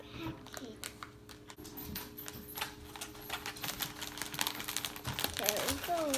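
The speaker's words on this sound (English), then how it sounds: "going to cut the package." A plastic toy package is cut open, giving irregular close crinkling and rustling throughout, with scattered small taps and a brief high squeak near the end.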